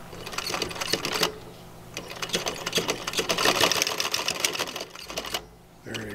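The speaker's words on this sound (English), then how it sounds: "This is like the final stitching on the final screen." Sewing machine running in fast stitching bursts while sewing a flexible magnetic window screen, loud and close, stopping briefly between runs, with a voice talking over it.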